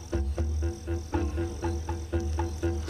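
Marine toad croaking in a repeated rhythm of short low calls, close and clear, with no talking over it.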